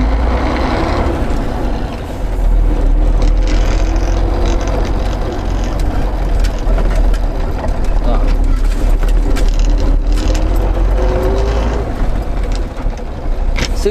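A KAMAZ truck pulls away after a stop, its loud, steady diesel engine droning close by with a low rumble and whir that barely lets up over fourteen seconds.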